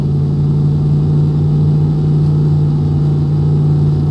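A truck engine in a SnowRunner video game mod hums at a steady, constant drone, loud and unbroken throughout, with no talking.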